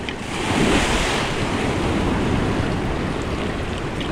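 Ocean surf rolls in continuously with a steady wash of breaking waves, mixed with wind buffeting the microphone, loud and close with no voices.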